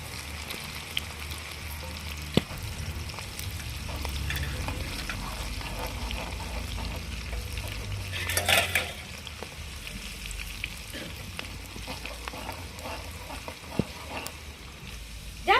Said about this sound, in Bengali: এবার আমি তেলের মধ্যে দিয়ে দেবো রসুন কুচি আর আদা কুচি দেবো লঙ্কা কুচি